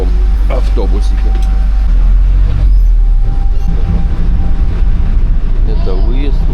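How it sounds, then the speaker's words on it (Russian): A small resort shuttle bus at Reef Oasis Blue Bay Resort in Sharm el-Sheikh, Egypt, rumbles steadily with a loud low engine drone, while people talk nearby and a faint tonal hum runs through the ride. "На ужин мы решили прокатиться. Вот на таком автобусике."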